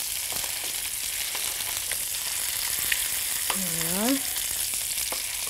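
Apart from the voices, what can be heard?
mackerel fish frying skin-down in a hot pan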